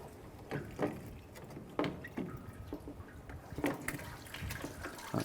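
Coolant dripping from a 2007-2013 Mini Cooper radiator as it is lifted out: faint, scattered drips and small splashes at irregular intervals over a quiet background.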